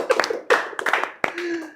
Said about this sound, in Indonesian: Ya, tepuk tangan dulu lah.